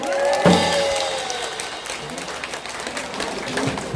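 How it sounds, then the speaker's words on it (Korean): An audience claps steadily at a year-end concert of a singing class after a guest singer's song, with scattered voices over the dense, continuous applause that swells near the start and then holds. "박수 소리 나는데 함성 소리는 안 나고"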